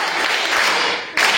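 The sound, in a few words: applause for a student answering quiz questions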